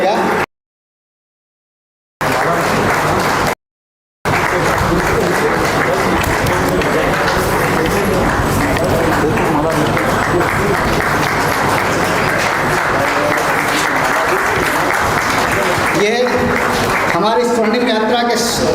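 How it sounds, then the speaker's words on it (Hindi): Continuous audience applause rolls through a lawyers' association golden jubilee ceremony, a loud, dense and unbroken wash of clapping interrupted by two brief silent gaps, thinning slightly near the end. "जब तक इनका स्वागत नहीं हो तब तक हमें अनवरत तालियां बजाते रहना है"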